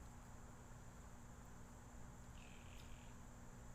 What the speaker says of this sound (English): that sounds like a frog or like an insect or something